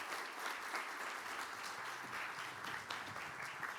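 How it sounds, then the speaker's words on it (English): An audience claps after a lightning talk on the political economy of data in Africa, with sustained, dense applause from a sizable crowd heard at a moderate distance and holding steady. "And a round of applause for Lynette Kwamboka."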